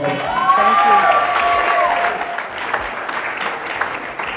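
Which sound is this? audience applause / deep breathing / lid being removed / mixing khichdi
audience applause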